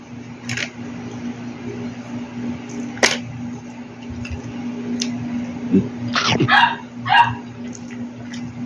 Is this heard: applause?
no